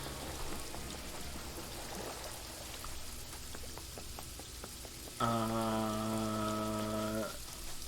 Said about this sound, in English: Rain? It's never rained before. Am I in the rainy area?